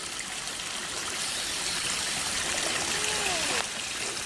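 A Hobby Plus URUAV CR-24 1/24-scale micro RC crawler churns through water, giving a continuous trickling, sloshing wash with a faint motor whine rising near the end.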